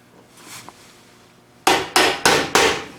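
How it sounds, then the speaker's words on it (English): A hammer drives a tight-fitting part on a home-made sand muller: four sharp metallic blows in steady succession after a quiet stretch of faint handling noise, close and loud. "I might need to get a hammer."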